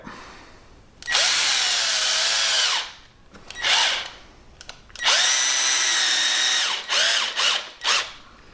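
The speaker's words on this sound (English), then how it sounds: "I'm now going to use a much lighter, less high-powered drill driver" A light cordless drill driver with a small 1.3 Ah battery whines in several bursts as it drives a Lost-Tite screw, one long run, a short one, another long run and quick pulses, close by.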